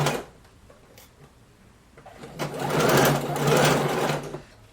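A sewing machine closes a short seam on a blouse sleeve: a few light taps, then a loud, rapid burst of stitching lasting about two seconds before it slows and stops.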